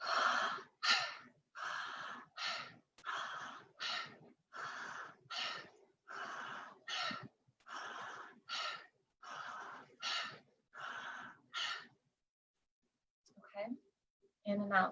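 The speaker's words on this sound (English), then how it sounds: "In and out through the mouth, deep, full, active inhales, passive exhales, breathing like this for 30 breaths" Deep, active breathing in and out through the mouth as a guided breathwork exercise, with about a dozen strong rhythmic inhale–exhale cycles, loud and close, then a brief pause before breathing resumes.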